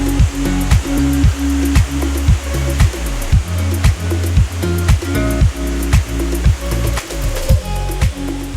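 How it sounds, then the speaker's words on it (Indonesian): Powerful, heavy rush of the Simonang-Monang waterfall in Bandar Pulau, Asahan, surrounded by green trees, a loud continuous roar of falling water close by, with no voices. "cukup memukau karena memang air terjunnya yang sangat deras"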